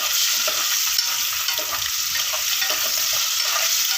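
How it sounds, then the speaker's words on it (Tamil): Eggs frying in hot oil for egg curry, a bright continuous sizzle with soft stirring scrapes, close and steady throughout with no talking. "முட்டையை வந்து நல்லா எண்ணெயிலே பொரிச்சு எடுத்துடலாம்"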